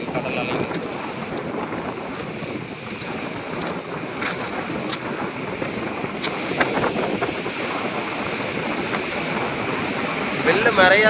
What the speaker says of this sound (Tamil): பாலத்துக்கு மேலே ஓடி வரும் பாருங்கள் கடல் அலைகள்.